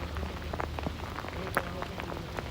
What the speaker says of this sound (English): But there's still some fully frozen pellets that are coming down as well.